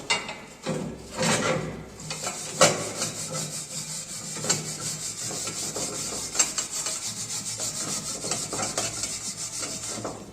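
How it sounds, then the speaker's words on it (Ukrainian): A wire brush scrubs over a weld seam on steel plates, a close, raspy scraping in repeated strokes that keeps up throughout at moderate loudness, with a few sharper scrapes standing out. "беремо щітку і зачищаємо"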